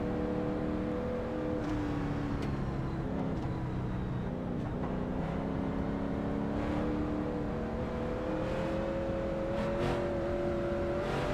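Late model stock cars in a racing sim roar past on an oval track, with a steady engine drone and whining tones rising and falling, plus brief whooshes of cars going by.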